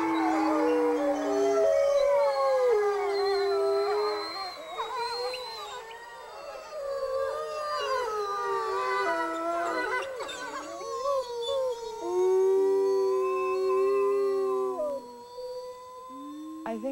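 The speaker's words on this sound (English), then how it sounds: "We get to hear wolves howl every evening." Full-blooded wolves of a pack howl together in the evening, several long rising and falling voices overlapping in a close chorus with occasional yips, continuing for the whole stretch.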